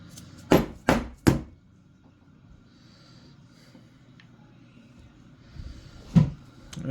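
Three sharp metallic taps close together, then a lone knock, from work on the bolt of an old-style Marlin Glenfield Model 60 rifle while its firing pin is driven out; near and isolated, with quiet handling noise between.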